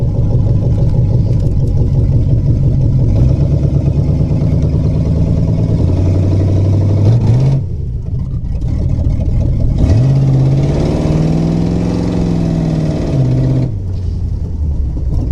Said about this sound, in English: But it's got that old Pontiac 400 up in there today.